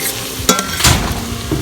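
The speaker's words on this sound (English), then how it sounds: "So I am sauteing the onions, and I'm not using any oil or anything." Onions sautéing dry in a pan with no oil, a soft sizzle under two sharp clinks of a utensil scraping and stirring against the pot, close and fairly loud.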